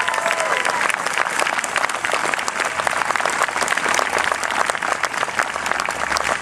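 Crowd at a music venue giving loud, sustained applause to welcome a performer, dense continuous clapping with cheering mixed in, close and full throughout.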